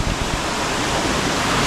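Small waterfalls tumble through log jams in a forest stream at Urutawa, a steady, close rush of broadband water noise that holds without a break.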